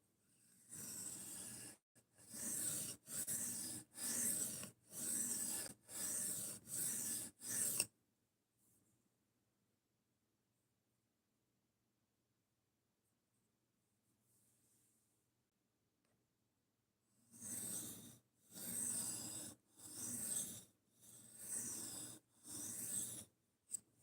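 Blade sharpened on a high-grit whetstone of over 1000 grit: rhythmic rasping strokes, about seven in a quick series, then a long near-silent pause, then another run of strokes, close and clear.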